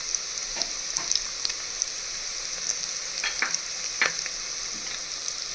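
Spices, chutney, black masala and turmeric fry in hot oil in a mud pot, a steady soft sizzle with scattered sharper crackles and occasional stirring scrapes, close and alone.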